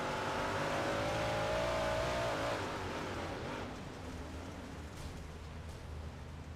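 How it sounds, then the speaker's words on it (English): Race car engine heard from an onboard camera during a dirt-track race night at Lernerville Speedway, a loud continuous roar with a rising whine that drops off, then a steady rumbling drone. "Check this out, the Whiteowl Performance onboard camera with Justin Fuller"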